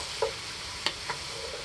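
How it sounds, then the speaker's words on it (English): Gravy is stirred into chicken and vegetables in a Dutch oven, a soft steady sizzle broken by three brief clinks or scrapes of a utensil. "we're going to go ahead and add the gravy part"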